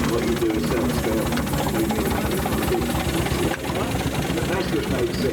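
A miniature steam traction engine rolls past at a country steam fair, a loud continuous mechanical chuffing and knocking rhythm close by, with some voices audible in the background.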